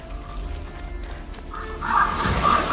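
A crow cawing in A Plague Tale: Innocence, harsh bird calls bursting out loudly near the end after a quieter ambient stretch, no speech.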